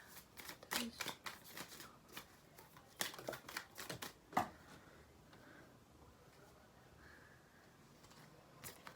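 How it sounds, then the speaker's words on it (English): Tarot cards are shuffled and drawn from a deck in a quiet room, giving soft, irregular riffling and flicking bursts close by, thinning out toward the end. "I'm gonna pull some cards from this beautiful deck"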